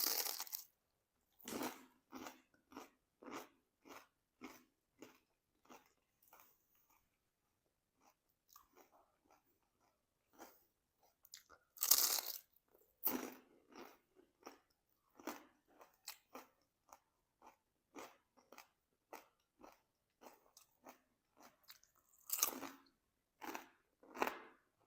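Crisp bites and crunchy chewing on a homemade potato hash brown in McDonald's style, a steady run of close crackling crunches with louder bites at intervals, and no talk.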